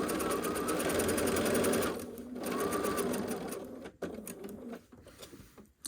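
A sewing machine stitches through a quilted trivet with a loud, steady rapid whir that slows and drops out near the end, with short pauses and light clicks between runs.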